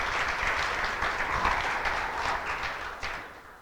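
Continuous applause from a church congregation during a worship service, a dense wash of many hands clapping at a steady, moderate loudness.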